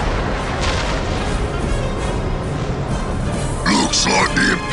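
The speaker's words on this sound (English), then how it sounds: "Where's that artillery coming from?" Artillery fire in the Dawn of War: Winter Assault strategy game, heard as a rumble of heavy booms and blasts over a noisy battle bed. A voice speaks near the end.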